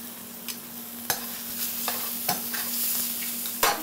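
Browned mushrooms tossed and sauteed in a hot pan, with a steady sizzle broken by several distinct clanks and scrapes of stirring at irregular intervals, close up and without talking.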